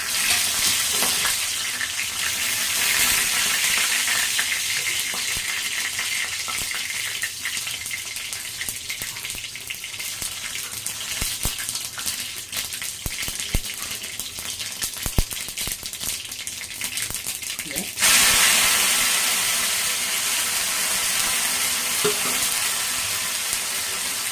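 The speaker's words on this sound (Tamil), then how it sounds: "இப்போ எண்ணெய் ஊற்றியாச்சு, கடுகு போட்டுடலாம். நல்லா கடுகு போட்டுட்டு 2 காஞ்ச மிளகாய்," Mustard seeds and dried chillies fry in hot oil, a steady loud crackling sizzle that carries on for the whole stretch with bursts of popping and a brief rattle partway through, and no voices.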